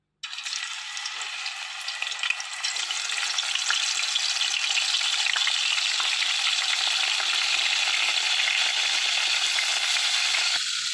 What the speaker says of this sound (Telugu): ఇప్పుడు నూనె కాగింది కదా, చేప ముక్కలు వేసుకుందాం.